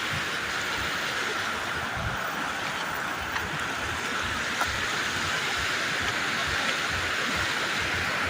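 A swollen river near Padampur, running high between large hills, rushes with a loud, steady roar of fast water that never lets up.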